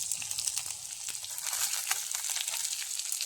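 Chopped onion and two green chillies sautéing in a hot pan for a taro-stem curry, a steady close sizzle with light crackle throughout and no talk.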